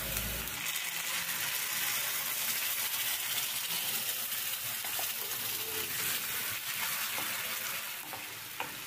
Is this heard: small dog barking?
no